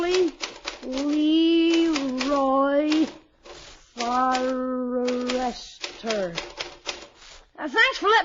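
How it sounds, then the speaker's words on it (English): Typewriter keys clack in an old-time radio comedy scene, bursts of sharp strikes breaking up a drawn-out, sing-song voice that speaks over and between them. "for letting me use your prescription typewriter, Mr. Peavy."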